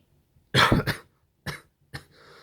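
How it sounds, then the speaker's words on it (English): Three separate coughs, the first one harsh and doubled, followed by two shorter ones with pauses between them, close and fairly loud. "I started coughing before I can even get to the pause button."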